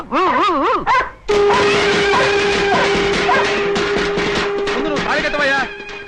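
A dog yips and whines in a movie scene, a loud burst of rising and falling cries at first, then fainter yelps under people talking over a steady background tone.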